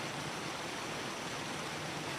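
A waterfall rushes in a steady, dense hiss of falling water, constant and moderately loud throughout with no other sounds.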